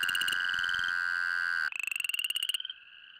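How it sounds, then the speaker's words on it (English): Chorus frogs croaking up close, fast, rising rattling trills that repeat in a dense run and then thin to a quieter trill at the end, with no voices. "During the mating season, chorus frogs congregate by the hundreds"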